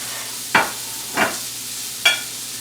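Steak medallions cook in rendered beef fat in a pan, heard as three short bursts of sizzling spaced about a second apart, each flaring up then fading, with no talk over them.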